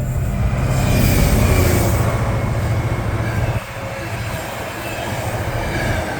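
Class 66 locomotive 66718 hauls a freight train through Berkhamsted station, a loud sustained rumble of engine and rolling wagons that eases slightly midway as the consist continues past.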